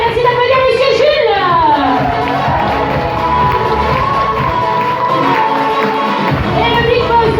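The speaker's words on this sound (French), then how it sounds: "Merci d'applaudir monsieur Jules." A holiday village evening show crowd cheers and applauds for the sound and lighting technician, a loud continuous roar of shouting voices and children's yells with clapping mixed in, steady throughout.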